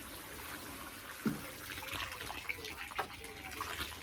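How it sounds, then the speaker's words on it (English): Water poured onto dry garden soil while planting tomato side shoots and cucumbers, a soft steady trickle and hiss with a few small splashes, faint and continuous. "I'm going to give it a water in as well because it's so dry."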